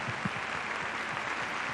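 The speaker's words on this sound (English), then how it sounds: "he definitely deserves a round of applause for this wonderful film" Applause from an audience at a CDI 2016 screening of the film Magic Piano, a steady dense wash of clapping held at an even level throughout the short stretch.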